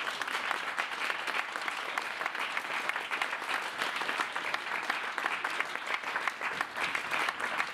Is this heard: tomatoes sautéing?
no